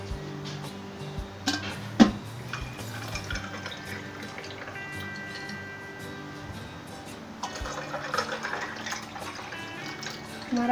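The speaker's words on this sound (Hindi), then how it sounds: "और पानी।" Water pours into glasses of lemon drink, a continuous gentle trickling close by, with occasional clinks of glass and ice and a faint voice in the background.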